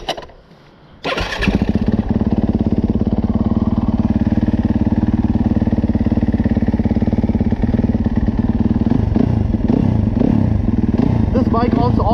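A Yamaha YZ250-series dirt bike engine revs up loudly after a brief quiet start and then holds a raw, rasping drone through the exhaust, close and continuous, with some rise and fall in pitch near the end.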